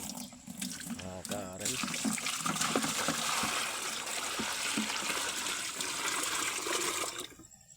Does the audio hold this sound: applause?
no